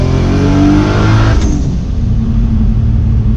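A widebody single turbo Toyota Supra accelerates hard in second gear on a back road, its engine roaring loud and close with rising harmonics, then a sharp shift-like break and a deep, steady rumbling drone afterward.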